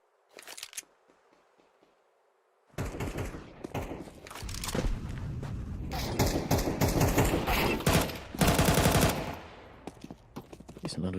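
MP5 and Galil fire rings out in a Counter-Strike 2 match, starting with a short burst followed by a quiet stretch. Loud sustained automatic gunfire then rattles in dense rapid bursts, with sharper volleys near the end.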